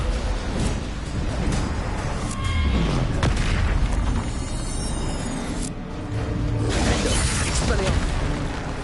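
An Incendio fire spell from Hogwarts Legacy bursts out in loud, roaring whooshes and booms amid continuous combat noise, with heavy low rumbles swelling and fading over several seconds.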